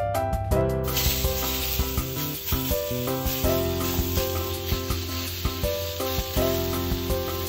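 Miso-marinated ostrich meat sizzles in a hot oiled frying pan, a continuous crackling hiss under gentle background music.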